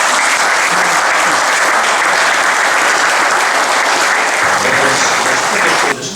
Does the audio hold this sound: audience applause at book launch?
yes